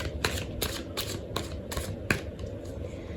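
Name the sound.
tarot cards being shuffled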